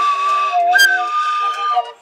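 An atenteben bamboo flute played with its finger holes poorly covered gives a breathy, wavering whistle-like tone that jumps into a brief shrill squeak partway through, then settles unevenly before fading out. No one speaks.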